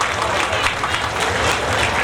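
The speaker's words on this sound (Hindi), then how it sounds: "जोरदार तालियां होनी चाहिए।" Loud, dense applause from a crowd at a stage event in Godda where a wrestler is being honoured, steady and sustained throughout with a low background hum.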